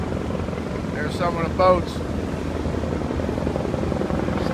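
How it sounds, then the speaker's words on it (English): A helicopter approaches an offshore drilling rig, a steady broadband rotor and engine rumble with wind noise that fills the clip while someone speaks briefly over it. "I can hear the helicopter coming."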